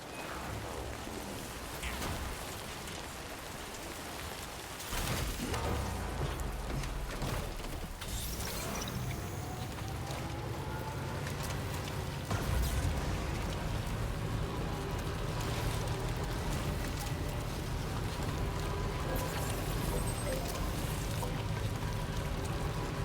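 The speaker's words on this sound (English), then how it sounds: "It do be raining" Rain falls in a video game as a steady, dense hiss of drops that grows heavier partway through, with a faint mechanical rumble and occasional thuds, and no talk.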